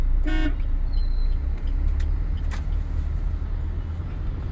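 A short car horn toot sounds near the start over steady traffic rumble, followed by passing road noise.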